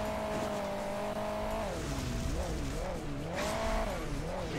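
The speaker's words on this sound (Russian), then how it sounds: "Ролишка там какая-то ехала сзади." Engine of a vehicle in the Hill Climb Racing 2 game, steady and loud, with pitch swooping up and down as it revs, tagged as a racing car with some tire squeal; no talking over it.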